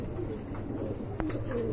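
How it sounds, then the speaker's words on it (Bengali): A big pair of pigeons coos nearby, with soft rolling coo phrases over a low steady background and one brief sharp knock partway through. "দেখেন বিগ সাইজের এক জোড়া কবুতর"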